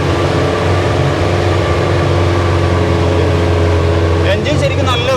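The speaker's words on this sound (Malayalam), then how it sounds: "എൻജിൻ ശരിക്കും നല്ല എഫേർട്ട് എടുക്കുന്നുണ്ടല്ലേ" An old jeep's engine labours loudly in four-wheel high while crawling down a steep off-road slope of about 50 degrees, a constant heavy drone close by, with a brief rattle of other sounds near the end.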